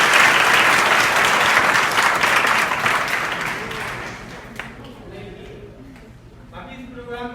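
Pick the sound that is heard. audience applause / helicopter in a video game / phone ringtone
audience applause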